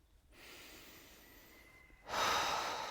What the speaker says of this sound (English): Take a few breaths in.